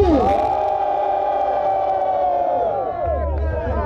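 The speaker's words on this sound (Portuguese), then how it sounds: "Barulho pra rima do Leozinho" Loud crowd roaring and cheering at a rap battle final, a sustained wall of shouts and whoops with bright yelled voices on top, filling the whole moment without a break.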